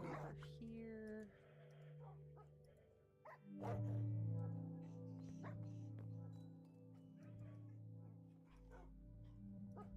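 Tamed dogs in the Minecraft video game whimper and yip in short, repeated bursts under steady background game music, moderately loud.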